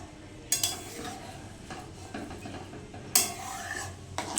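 Dal being stirred together with garam masala, ghee and chopped coriander, producing scraping spoon-on-pot clinks at a few points over a low steady background, close and moderately loud.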